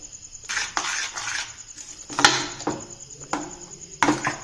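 A spoon scrapes and clinks against a pan while spinach stir-fry is mixed, four or five distinct stirring strokes with metallic knocks, close and alone, with quiet gaps between.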